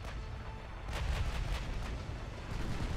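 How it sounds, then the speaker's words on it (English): Warship naval guns fire in the Ultimate Admiral Dreadnoughts naval battle game, a dense, continuous rumble of booming artillery salvos that swells and stays loud throughout. "all German ships are firing"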